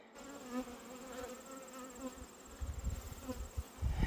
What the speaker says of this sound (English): Bees are also working the white asters.